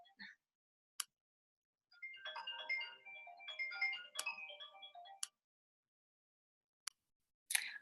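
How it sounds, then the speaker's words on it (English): An incoming call sets off a phone ringtone, a short melodic electronic tune played once at low volume, framed by a few sharp isolated clicks in otherwise quiet surroundings. "Oh, I am getting a phone call."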